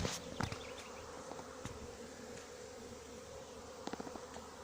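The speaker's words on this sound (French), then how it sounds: "Il y a quelques abeilles qui se sont envolées et qui vont se reposer dans le carton bien sûr." Swarm of honeybees being collected from a branch, a faint, continuous outdoor buzz with a few louder bees darting close by the recorder.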